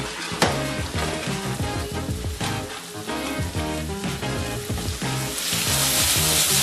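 Swordfish sears in a pan with sauce, a loud, dense sizzle with crackles and pops that grows brighter and more intense toward the end, close up and with no talking.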